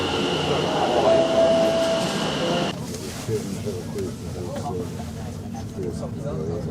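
Steady rumble of a train leaving Beaulieu Park station toward Chelmsford, with a brief high tone early on, then quieter rolling noise with faint rhythmic clatter after a sudden drop in level.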